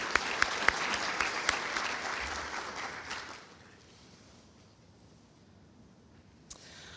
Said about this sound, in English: if you would help me give them a round of applause for making this happen.